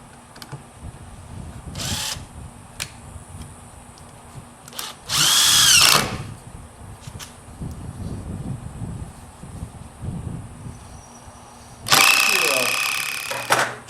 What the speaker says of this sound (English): I'm going to take 2 2x4s and screw those in down here at the base to start my base